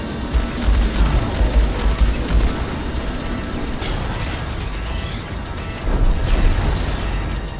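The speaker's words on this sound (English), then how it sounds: "you'll see me like trying to shoot the ship in different sections to try to get the weak points" Rapid gunfire and booming explosions from a space-combat game, Strike Suit Zero, as frigates are shot at, forming a dense, loud, continuous barrage with rumbling low end and occasional sweeping tones.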